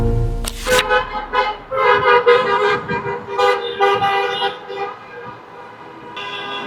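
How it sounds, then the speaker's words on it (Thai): Several car horns of a wedding procession toot and honk repeatedly over a busy street in Flensburg, Germany, fairly loud and overlapping, with traffic noise underneath. "ที่ได้ยินเสียงปีนปีนปันปานน่าจะเป็นขบวนแต่งงานนะ ดังมากทุกคนหันมามอง"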